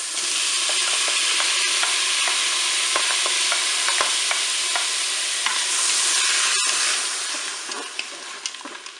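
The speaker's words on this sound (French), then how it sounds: "Je vais maintenant ajouter les champignons." Mushrooms sizzling with pork loin in a Cookeo multicooker, a steady loud frying hiss with scattered crackles and utensil scrapes, easing off toward the end.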